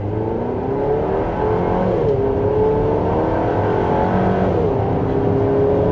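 A 2026 Chevrolet Traverse RS AWD three-row SUV accelerating hard in sport mode, engine note climbing steadily through two upshifts, loud and continuous from inside the cabin.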